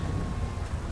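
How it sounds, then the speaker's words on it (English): Rain and thunder in a GTA Online open-wheel race, heard as a brief, steady wash of rainfall hiss over a low rumble, with no voices. "We are playing on rainy weather"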